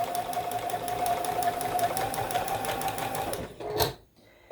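Sewing machine with a piecing foot stitching quilt block pieces, a close rapid mechanical chatter at an even pace for several seconds, then stopping with a small clunk before a short silence.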